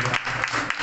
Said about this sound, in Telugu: అప్పారావు గారు వచ్చి ఆయన కోసం ఒకసారి చప్పట్లు కూడా